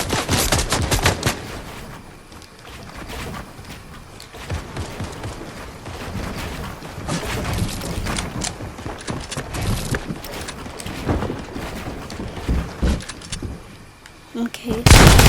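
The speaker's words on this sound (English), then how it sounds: "Oh, they're getting shot at." Bursts of rapid gunfire ring out in a Fortnite match, with quick repeated shots and scattered single cracks coming in clusters over about fifteen seconds while a player talks over the action.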